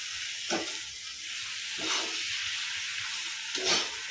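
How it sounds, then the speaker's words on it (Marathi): Washed dried fish (sukat) sautéing in a pan over a flame, giving a steady loud sizzle and hiss with three brief stirring scrapes spaced about a second and a half apart. "आता सुकट त्यामध्ये घालून झाली की छान परतवून घ्यायचं आहे."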